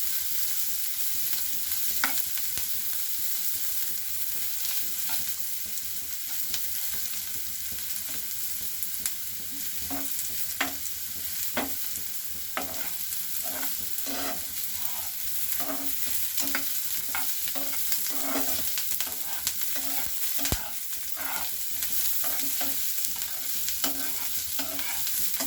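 Ingredients fry in oil in a home kitchen, a continuous soft sizzle with intermittent spoon scrapes and stirring clatter against the pan, steady and close, without any speech.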